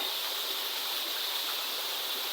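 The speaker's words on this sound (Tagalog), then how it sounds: "Waterfalls na siya mga ka-idol dayon." A waterfall flows in a steady, unbroken rush of water, loud and close, with no voices over it.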